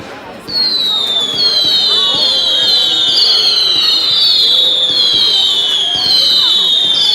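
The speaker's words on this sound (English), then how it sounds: "Hopefully it's a good firework display and everything." At a bonfire night display, fireworks fire off loudly one after another as a string of shrill, falling whistles, each rocket screaming in quick succession, while voices murmur underneath.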